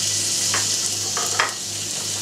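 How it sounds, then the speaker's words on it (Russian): Meat pieces sizzle in a hot dry frying pan, a steady hiss of frying with a few brief stirring scrapes and no voices. "Сковородочка разогрелась, и давайте обжарим эти кусочки."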